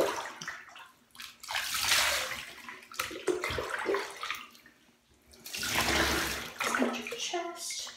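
A Chihuahua gets a bath in a tub as water runs and splashes in long swelling bursts with quieter gaps between them, and a voice talks softly underneath.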